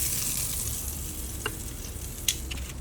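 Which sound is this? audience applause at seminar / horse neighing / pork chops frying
pork chops frying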